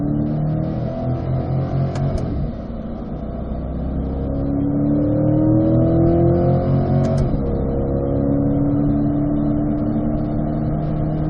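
Sports cars on the track at a performance driving school at Spring Mountain rev and accelerate nearby, their engines climbing in pitch through upshifts, with a loud, steady drone throughout and no voices.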